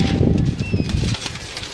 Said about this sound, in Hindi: तो उस्ताद जी के शागिर्द की छत पे ये कबूतर शाम तक की परवाज़ें दे रहे हैं